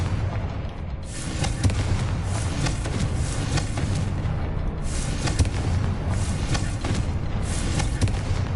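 Confringo blasting spell cast in Hogwarts Legacy, a dense run of booming, crackling blasts and thuds that keeps on steadily and loud throughout, with no speech.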